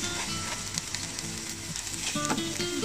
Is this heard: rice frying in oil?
yes